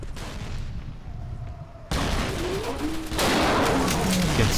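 Sniper and other gunfire in the video game Dino D-Day, with dense bursts of shots and booming battle noise swelling louder over the clip.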